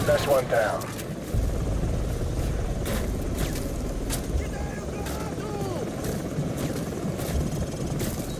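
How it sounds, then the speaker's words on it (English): Enemy helicopters approach in Call of Duty Modern Warfare 2, a steady rotor thrum filling the background with a dense low rumble while radio voices speak over it. "we've got enemy helos approaching from the northwest and southeast"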